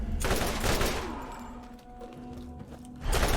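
Rifle fire in the Borderlands video game: a loud, rapid burst of shots opens, then a quieter stretch with humming in the background, and a second close burst of fire ends it.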